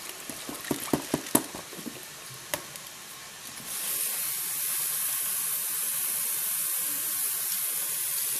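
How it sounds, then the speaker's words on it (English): Sweet sticky rice is set to steam, first a few clattering knocks and taps, then a steady, even hiss of steam that carries on to the end. "I'm gonna steam this."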